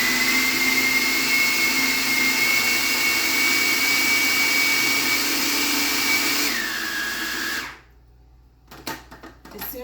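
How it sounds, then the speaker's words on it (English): Food processor blending cream cheese, butter, almond butter and sweetener into a smooth mix: a loud steady whirring motor hum that winds down and stops, followed by a few small clattering knocks. "we're gonna turn the food processor on until it's smooth"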